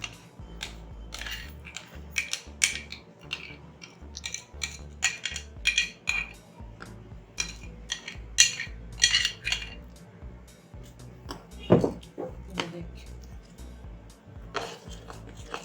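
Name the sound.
mixing donut dough ingredients in a bowl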